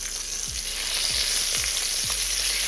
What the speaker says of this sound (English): I'm going to do these in batches so that they can brown off evenly.